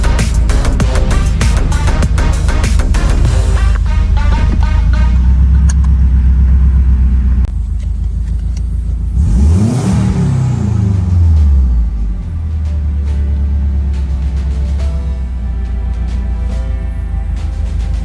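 A Subaru Forester XT turbo engine runs close by, a steady loud low rumble with one rising and falling rev in the middle, then settling back to an even idle.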